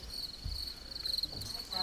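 Faint, continuous high-pitched chirping of crickets outdoors, with soft low rumbles and faint background noises underneath.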